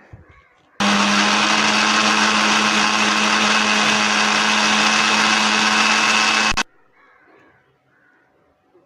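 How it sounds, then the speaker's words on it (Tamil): A mixer grinder runs loud and steady for about six seconds, a whirring motor churning cream into butter in the jar, then stops abruptly to quiet background. "இப்போ நான் மிக்ஸி ஜாரில் போட்டு அடித்து காமிக்கிறேன் பாருங்கள்."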